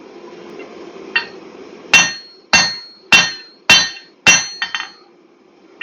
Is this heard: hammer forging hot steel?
yes